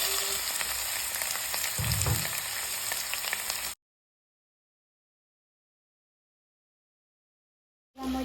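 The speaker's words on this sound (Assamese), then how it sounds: "2 মিনিটমান ভাজাৰ পিছত মই এতিয়া দি দিছোঁ চিকেন।" Chicken sizzles in a hot pan with potato, onion and dried chili, giving a steady, close frying hiss with a brief thump of stirring. It cuts to silence partway through, then the sizzle briefly returns.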